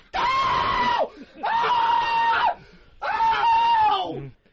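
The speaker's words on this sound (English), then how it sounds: "How do you scream like that after being hit?" A man screams after being hit, three loud, strained, drawn-out cries of about a second each, separated by short pauses, the last trailing off.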